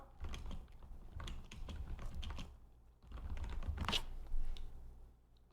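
Steady clattering keystrokes on a computer keyboard, typing in quick uneven bursts with a brief pause midway, close and fairly quiet.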